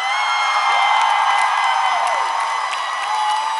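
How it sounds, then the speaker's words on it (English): Concert crowd at LC Pavilion in Columbus, Ohio applauds and cheers for the band, a dense steady roar of clapping and whoops filling the room throughout with no pauses. "I would love for you to give a massive round of applause to"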